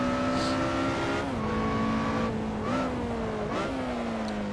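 A Lotus Exige Scura in the Assetto Corsa racing game downshifts at Imola, its steady engine tone dropping in pitch with each gear change, loud and continuous with no talk over it.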